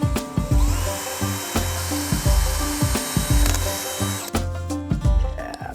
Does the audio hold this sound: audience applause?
no